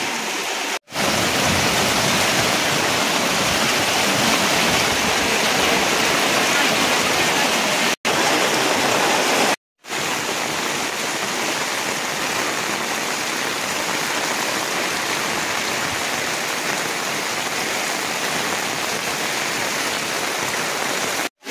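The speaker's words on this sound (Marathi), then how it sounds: "माझ्या घरातलं पाणी आहे" Floodwater from overnight rain rushing inside a flooded house, a steady loud broadband wash like a stream, continuous apart from a few brief cuts.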